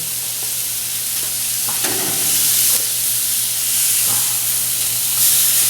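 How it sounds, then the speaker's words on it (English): Pork tenderloin for raspberry balsamic pork searing in a pan just after flipping, a loud continuous sizzle and hiss with a few brief scrapes and clicks, up close. "it's been about a couple minutes on that first side, and now I'm going to go ahead and give them a flip"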